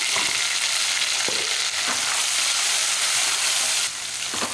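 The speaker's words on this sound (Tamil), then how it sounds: "பாருங்கள் வெங்காயம் இந்த அளவுக்கு வதங்கினா போதும்" Onions fry in oil with turmeric and salt for a black chickpea gravy, giving a loud, continuous close sizzle with brief scraping stir strokes throughout and no talking.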